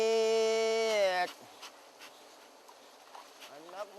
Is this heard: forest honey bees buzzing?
yes